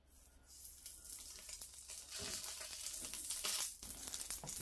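Wagyu beef fat rendering in a hot pan, a bright steady sizzle that builds and crackles for several seconds, close and moderately loud.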